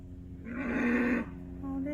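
During a cattle drive on a street, a single cow lets out a short, low moo with a nasal, droning tone, fairly close and over a steady background hum.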